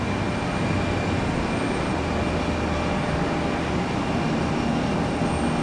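A Boeing 737 MAX jet airliner passes at Tampa airport, its engines giving a steady, loud broadband roar that holds evenly throughout, with no voices.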